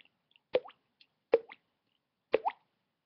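A person flicks a cheek to mimic a water droplet, making three distinct hollow plops spaced about a second apart, close and clean against silence.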